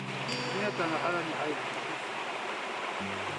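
A mountain stream pours into a waterfall plunge pool in Tokyo, Japan, giving a constant rushing hiss with a faint voice briefly audible early on and again near the end.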